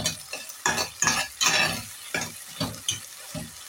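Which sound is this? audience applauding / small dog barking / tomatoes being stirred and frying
tomatoes being stirred and frying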